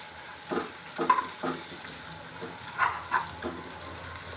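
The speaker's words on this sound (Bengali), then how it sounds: "এখন এটাকে চামিচ দিয়ে ভালো মতো নাড়া দিতে হবে।" Frying food being stirred with a spoon in a pan, several distinct scraping strokes in two bursts over a low, steady sizzle, fairly quiet and close, with no talk.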